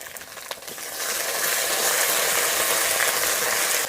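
Ginger paste and grated coconut frying in a pan for a Bengali banana-flower ghonto, a dense steady sizzle that swells after the first second and holds loud and continuous, with no talk.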